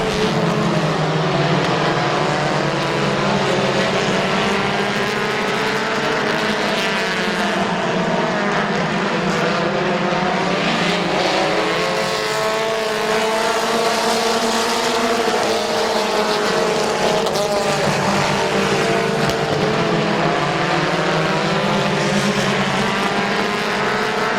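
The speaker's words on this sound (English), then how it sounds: "McDonald and Schreffler battle for the top spot" Race cars lapping the Midvale Speedway oval give a constant loud engine roar whose pitch rises and falls as the cars sweep past, with no voices.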